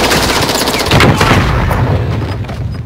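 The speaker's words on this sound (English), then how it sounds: "This MP7 has no damage, man." Rapid automatic bursts from an MP7 submachine gun in a battle royale video game, loud and close, with dense overlapping shots and booming impacts running through the whole stretch.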